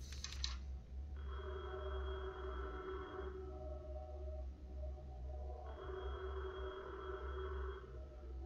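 A telephone rings twice with a warbling electronic tone, each ring lasting about two seconds with a pause between, fairly faint over a low steady hum.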